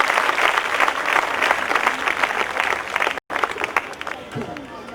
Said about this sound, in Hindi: आइए जोर से ताली बजाएंगे हम सर जॉन मैथ्यू के लिए, जोर से